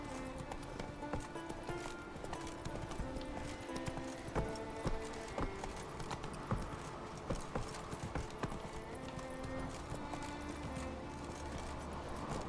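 Horse hooves clip-clopping steadily on a path as Roach, Geralt's horse in The Witcher 3, is ridden along, a continuous rhythmic trot heard up close with faint game ambience and no talking.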